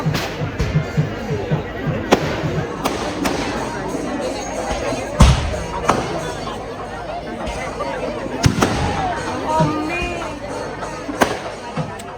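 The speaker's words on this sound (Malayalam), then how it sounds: "അപ്പോൾ അവിടെ നല്ല വെടിക്കെട്ടോ കാര്യങ്ങളൊക്കെ ഉണ്ടായിരുന്നു" Fireworks outside a temple festival crack and bang in scattered loud bursts over a continuous murmur of crowd chatter and voices.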